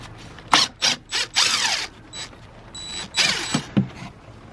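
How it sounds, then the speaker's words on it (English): T25 Torx screws on a BMW N47 diesel intake manifold are undone with a ratcheting tool in short, close mechanical bursts of clicking, each separated by a pause. "you also have to undo these little torque screws as well"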